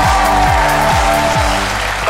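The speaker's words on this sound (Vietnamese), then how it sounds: "Một tràng vỗ tay to dành cho đội Mình Dây." A studio audience on a Vietnamese TV game show applauds a team, loud clapping running under a repeating descending musical sting that plays several times over the short stretch.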